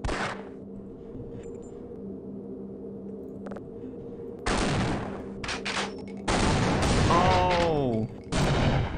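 Gunfire in Half-Life: Opposing Force as pylons are shot, coming in loud broadband bursts separated by pauses, the later bursts longer and denser, with a quieter game ambience underneath.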